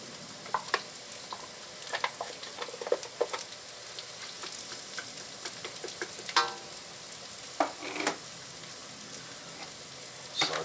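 Garlic and onion stir-frying in a pan for a beef stir fry, a steady sizzle broken by repeated scraping and clacking of a utensil as it is stirred, close and with no talk.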